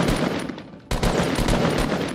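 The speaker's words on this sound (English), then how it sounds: "I'm gonna shoot them." Dense automatic gunfire from the Fortnite battle royale game, a loud continuous burst that drops out briefly near the start and then resumes at full intensity, close and alone with no talk over it.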